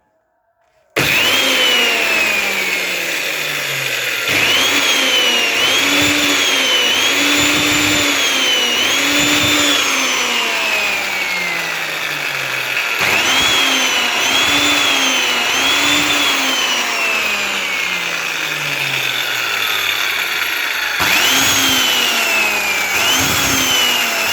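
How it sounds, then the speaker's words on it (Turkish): A repaired 1950 Soviet-made electric chainsaw motor runs loud and close, its whining drone rising and falling in pitch with repeated bursts of speed. It keeps going continuously for over twenty seconds. "E şimdi toplayıp bir çalıştıralım bakalım."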